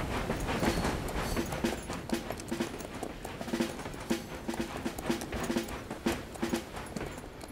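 Hooves clip-clop in a fast, steady rhythm, several horses moving together at close range with a broad rumbling noise underneath.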